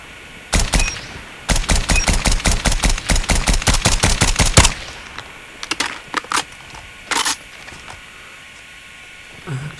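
A semi-automatic gun in COD Mobile fires a fast, steady string of about twenty sharp shots, then pauses before a few scattered shots and a short burst follow, loud and close.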